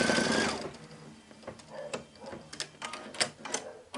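A sewing machine sews a placement stitch on appliqué quilt letters, a close, fast mechanical whirring with rapid ticking needle strikes in short uneven bursts.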